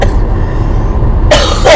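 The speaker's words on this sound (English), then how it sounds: "I'm even coughing because I can't breathe" A short burst of coughing, two rough hacks close to the microphone, after a moment of muffled background noise.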